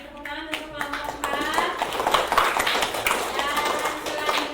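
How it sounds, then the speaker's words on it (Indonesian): A fourth-grade classroom claps for a student group after its presentation, a short burst of children's clapping mixed with chatter and voices. "Kasih tepuk tangan untuk kelompok 4."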